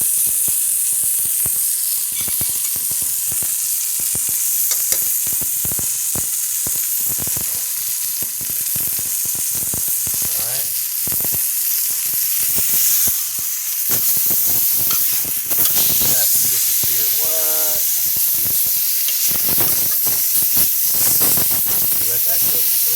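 Steak searing in a hot frying pan gives a loud, steady sizzle with dense crackling and spitting that runs unbroken throughout, with a faint voice now and then beneath it.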